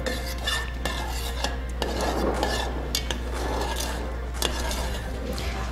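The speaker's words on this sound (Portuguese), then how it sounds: "eu vou mexer, né, para que o óleo essencial agora se misture à nossa parafina em gel" A utensil stirs essential oil into gel paraffin wax for a citronella candle, making close, repeated scraping and clinking against the container in an irregular rhythm with occasional sharper taps.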